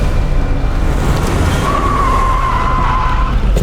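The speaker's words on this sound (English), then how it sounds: "차량이 시야를 벗어나자 속도를 올리는데" A car accelerates hard at night while tailing a black car, its engine surging loudly under a steady rumble, with a drawn-out tire squeal rising midway through.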